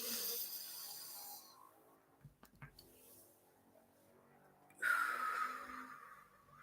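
A deep breath drawn in to fill the lungs and belly: a long hissing airy intake, then a quiet stretch with a few small clicks and thumps, then a second loud breathy rush of air close to the mic.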